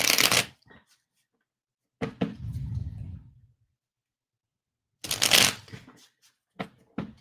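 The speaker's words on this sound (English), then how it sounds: "While I shuffle these cards" Tarot cards are shuffled in several close bursts of riffling and sliding, separated by silent pauses, with a couple of short taps near the end.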